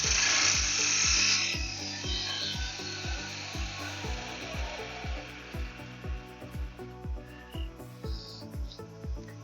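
A wood lathe turns a lid for a small lidded pot, giving a steady spinning whir with a sharp burst of cutting noise at first, then a regular ticking rhythm of tool contact that continues throughout.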